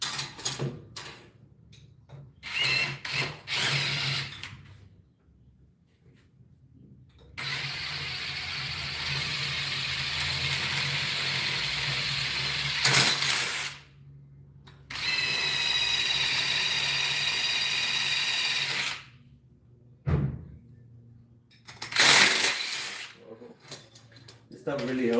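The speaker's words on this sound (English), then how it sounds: "Okay, I found my drill bit. So now I'm gonna enlarge these" A power drill bores through metal welder-cart brackets to enlarge screw holes, with several sustained whirring, grinding bursts separated by pauses filled with quieter handling clatter.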